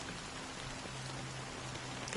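Rain from the video game Honkai: Star Rail pours in a constant, faint hiss of drops hitting surfaces, unbroken for a couple of seconds with no voices.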